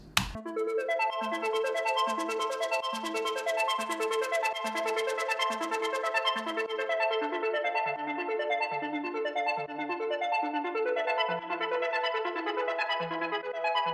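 Synth chords from an Analog Lab preset play in a busy, rhythmic pattern of bright plucked notes, moderately loud, with no voices.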